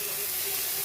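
Gholchi greens dropped into a hot tempering over a low flame, releasing a brief, steady hiss of sizzling steam close by, with no voices.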